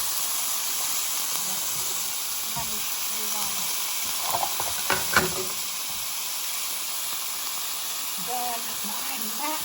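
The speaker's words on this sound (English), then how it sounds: "I've got the oil heating up in the pan already. I'm going to add in the bacon and onions" Diced bacon and onions sizzle and hiss steadily in hot oil in a pan, with brief louder crackles partway through and a bit of clatter and muffled speech near the end.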